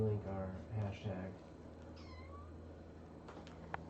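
Baby kittens indoors let out a short, thin, rising-and-falling meow, faint beneath a person talking at the start, followed by a few small high squeaks.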